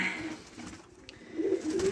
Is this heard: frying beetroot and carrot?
no